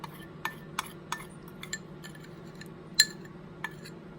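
A spoon scrapes a cinnamon butter and oatmeal apple crisp topping from a bowl, producing sharp, close clinks and scrapes against the dish at irregular intervals over a quiet background.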